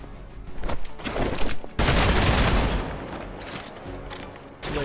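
Gunshots in the Marvel's Midnight Suns video game, a dense cluster of sharp cracks and impacts blending into a loud sustained burst over a rumbling game soundtrack.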